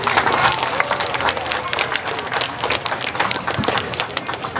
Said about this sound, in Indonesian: Tepuk tangan buat Aceh.